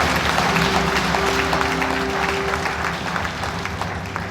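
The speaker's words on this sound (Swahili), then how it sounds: "Tupigie Bwana makofi." A church congregation claps steadily together during a Kikuyu-language service, a dense even patter over a low sustained tone that eases slightly toward the end.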